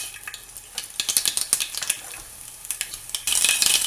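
Mustard seeds dropped into hot oil crackle and pop in quick irregular bursts, close up. A sharp, louder sizzle swells near the end.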